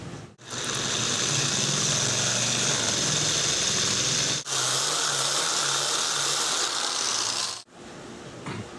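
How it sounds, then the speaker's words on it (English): A drill bit enlarges a hole for the spindle of a handmade pump drill, giving a steady, loud whirring grind that runs almost nine seconds, broken by two brief pauses. "We need to enlarge that with a little bigger drill for our spindle."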